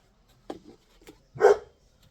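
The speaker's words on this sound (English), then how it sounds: "there's my doggy barking" A pet dog barks indoors in a home art studio, three short separate barks over about two seconds, the last loudest and nearest, with quiet room noise between them.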